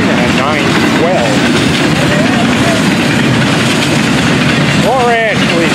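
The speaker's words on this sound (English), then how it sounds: "That's a Saturday train at 9:12." A Florida East Coast freight train rumbles past loudly and continuously, a dense roar of wheels and engine, while people talk over it.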